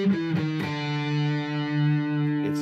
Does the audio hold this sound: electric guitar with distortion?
yes